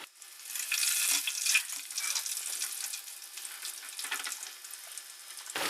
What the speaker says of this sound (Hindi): ये सारी चीज़ें फ्राई हो गई हैं।